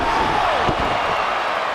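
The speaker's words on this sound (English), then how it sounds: "Kurt Angle, belly to" Belly-to-belly suplex slam to the mat in a televised pro wrestling elimination tag match on SmackDown: one sharp impact thud mid-clip over a constant loud arena crowd roar.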